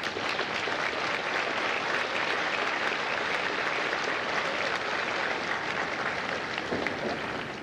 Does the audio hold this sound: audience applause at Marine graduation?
yes